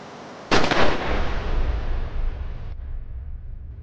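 A sharp gunshot from a crime drama cracks out loud and close, then its echo and rumble trail off for about two seconds before cutting away to quieter room tone.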